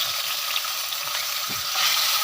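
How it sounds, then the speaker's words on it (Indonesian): Shrimp frying in hot oil, a steady, bright sizzle and crackle that holds constant with no talking. "pertama-tama aku mau goreng udangnya tadi ya"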